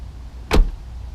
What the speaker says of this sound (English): An example of that is just listening to the doors shut.